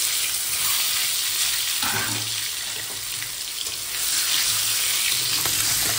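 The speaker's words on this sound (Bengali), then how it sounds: "তেল গরম হয়ে গেছে বন্ধুরা, এখন দেখো ডিমগুলো আমি ভেজে নেব একটু" Eggs frying in hot oil, a loud, dense, continuous sizzle with a broad hissing roar and slight crackle that swells briefly, heard up close with no talking.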